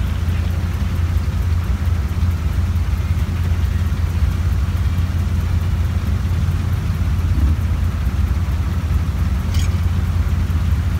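A military vehicle convoy, including deuce-and-a-half trucks, rolls in parade formation, giving a steady loud engine drone and road rumble with no break throughout.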